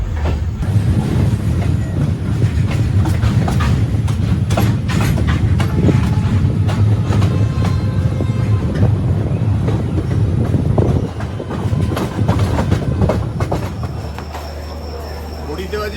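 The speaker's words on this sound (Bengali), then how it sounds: "তো এখন খুর্দা রোড জংশন ছেড়ে বেরিয়ে যাচ্ছি" The Shalimar Puri Superfast Express pulls out of Khurda Road Junction, heard from on board as a loud, continuous rumble with rhythmic clickety-clack of wheels over rail joints and occasional metallic rattles.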